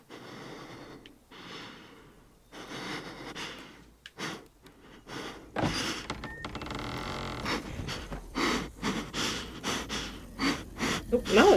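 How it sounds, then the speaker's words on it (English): A character in The Walking Dead: The Final Season breathes heavily through a mask, with rasping, gasping breaths repeating in uneven bursts, loud and close throughout. "The breathing on this is bonkers."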